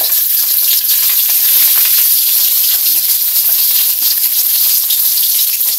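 Steady loud sizzle of sautéing in a steam pan, a dense continuous frying hiss from start to finish with no talk over it.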